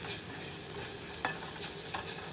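Taco soup ingredients with a packet of taco seasoning sautéing in a pot, a steady soft sizzle broken by a few brief scraping stirs, close and alone.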